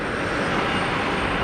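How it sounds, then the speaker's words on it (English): A Qatar Airways Airbus A350 arriving at Geneva, a brief steady distant jet roar with broad engine rumble and no voices. "A350 inbound to Geneva"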